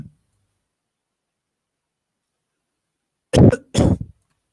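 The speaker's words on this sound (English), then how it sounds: "And I will try to cough now." Two short, loud coughs into a phone microphone, following a stretch of near silence, each burst rough and breathy like a throat being forcefully cleared.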